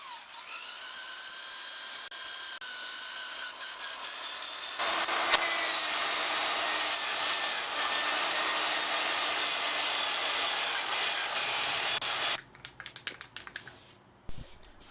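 Drill with an abrasive stripping disc scouring paint off an old 40-year-old bicycle frame, a continuous close whirring grind that swells louder midway, then cuts out into scattered scraping and rattles.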